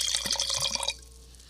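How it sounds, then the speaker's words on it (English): Wine glugging and splashing into a wine glass during a morning pour in Sonoma, a short close burst of liquid filling that stops abruptly after about a second. "That was a breakfast wine pour."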